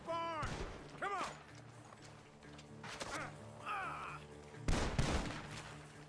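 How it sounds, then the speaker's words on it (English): Gunfire from a barn in Red Dead Redemption 2, several sharp cracks spread across the clip among game sounds and animal-like voice effects, with a loud burst near the end. "The gunshots are coming from that barn!"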